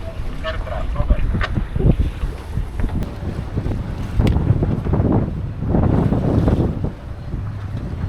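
A sailboat motors under the Patras bridge with its genoa coming in, as steady wind noise, engine rumble and splashing water roll past, loud and close, while people talk.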